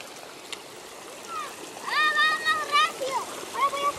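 Splashing as people bathe along the edge of a river, broken water sounds close by over a steady rushing background, with children's and adults' voices calling out over it.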